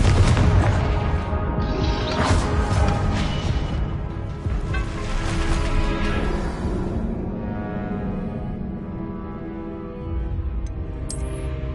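The Confringo fire spell explodes in Hogwarts Legacy with a loud, deep boom that rolls on into a long rumbling decay, fading slowly across several seconds.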